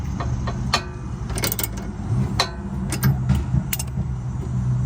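A ratchet or wrench tightens the front end link nut on a Honda Accord, making sharp metallic clicks and clanks in an irregular series over a dull background hum.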